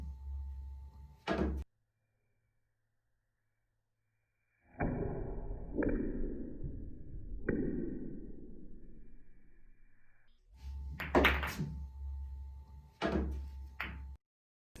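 Billiard balls clacking in a pool trick shot with double the distance between balls, three sharp ringing knocks in quick succession with a short fading tail, between stretches of near silence.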